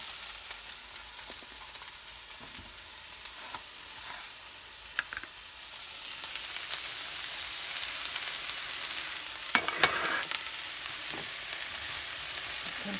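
Smothered okra with shrimp sizzling in a frying pan, a steady close crackle that grows louder midway, with occasional scraping strokes of a utensil stirring through it.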